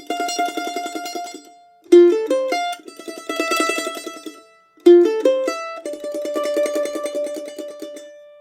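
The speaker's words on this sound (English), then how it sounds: "Italian mandolin players add a lot of tremolo." A mandolin plays Musetta's Waltz from Puccini's La Bohème as a gentle melody in rapid Italian-style tremolo, sustained notes alternating with quick plucked runs, clear and alone with no voices.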